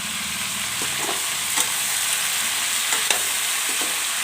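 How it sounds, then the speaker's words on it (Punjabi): Bell peppers and green chillies fry in a pan with a steady, moderately loud sizzle, while a spatula stirs and scrapes now and then with light taps. "ਆਪਾਂ ਪਹਿਲਾਂ ਇਹਨਾਂ ਨੂੰ ਫਰਾਈ ਕਰ ਲਵਾਂਗੇ ਥੋੜਾ ਮਿਰਚਾਂ ਨੂੰ ਪਾ ਲਵਾਂਗੇ"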